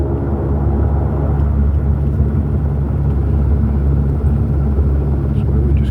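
An airliner taxis off the main runway after landing in Sydney, a steady deep rumble of engines and cabin noise heard from inside, continuous and fairly loud throughout.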